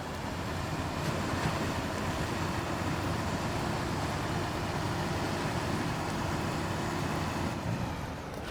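In the SnowRunner video game on PS5, a Type S 100 mod truck drives through water with a loud, steady rushing wash of engine and splashing water that holds unbroken throughout, with no voices.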